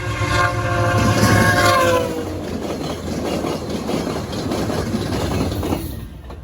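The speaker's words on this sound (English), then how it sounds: "we'll see a few trains run by" Model trains running on layouts at the Arnprior Train Show, a horn-like tone rising over a steady rolling rumble for the first two seconds, then a continuous mechanical clatter and hall ambience without talk.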